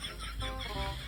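A chicken clucks briefly at close range, with people talking at the same time.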